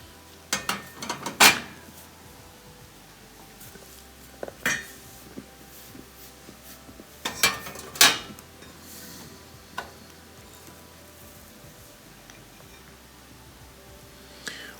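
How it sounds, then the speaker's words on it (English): Metal drip pans are set back into a Viking gas stove, producing a few sharp clanks and rattles spaced out over a quiet room, with faint small taps between them and no talking. "So we're going to put these drip pans back in."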